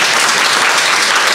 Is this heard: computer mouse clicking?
no